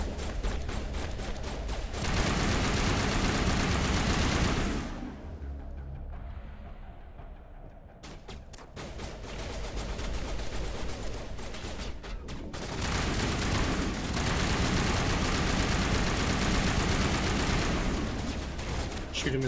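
Gunfire in the video game Mass Effect Legendary Edition: dense, loud bursts of rapid automatic shots and blasts, a short lull midway, then sustained firing resumes.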